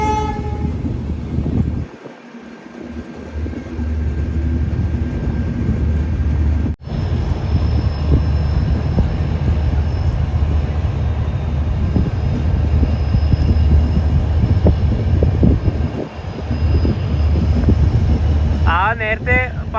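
A Humsafar Express train pulls into Hanumangarh railway station with a heavy, continuous low rumble of rolling coaches and wheels. A train horn blares briefly, and a thud and scattered clanks sound along the way.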